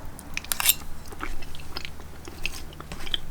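Someone eating mashed potatoes seasoned with salt, pepper and butter alongside a turkey wing meal, with soft close chewing and a few sharper bites and mouth clicks, continuous and near, no talking.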